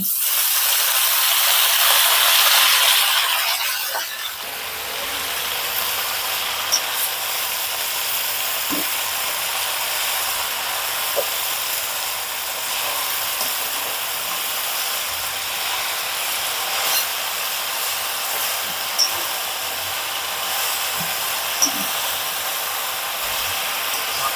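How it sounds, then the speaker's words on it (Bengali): Green chili and jute leaves frying in a pan, a loud hissing burst at first that settles into a steady sizzle with occasional stirring clicks, no talk. "এবার মরিচ দিয়ে দিলাম, তারপর পরে আমি শাকটা দিয়ে দিচ্ছি।"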